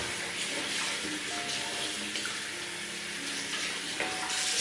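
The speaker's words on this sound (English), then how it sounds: "I'll just rinse off the brush and give you a peek at the brush there." Running water rinsing a shaving brush, a steady continuous hiss and splash close by with faint clinks, no speech.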